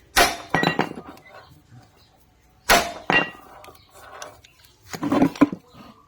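Metal clanks and clinks from a tool working loose the oil cover bolt on the double clutch side of a Honda Astrea Grand motorcycle engine, in three separate bursts of knocking with quieter rattles between.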